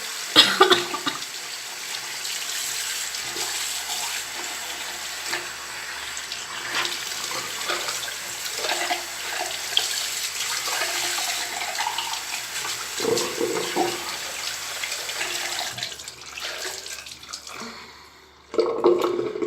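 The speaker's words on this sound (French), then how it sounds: "Donc là, je vais rincer." Running tap water splashing steadily as a face is rinsed, close and continuous, with a few coughs or throat clears and brief splashy bursts before the flow stops near the end.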